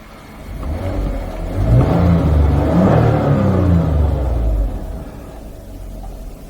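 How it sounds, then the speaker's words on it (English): A Toyota RAV4 engine with an ignition coil misfire fault starts up and runs, its low rumble swelling into a steady idle before easing back down, close and loud with no talking. "I'm gonna start the engine."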